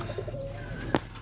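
A gola pigeon with pearl eyes gives a soft, short coo, low and fairly close, followed by a brief louder flutter or rustle near the end.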